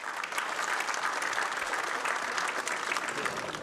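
Long, sustained applause from the 414 deputies of Russia's State Duma filling the chamber after a vote, a dense, steady roar of clapping throughout without any break.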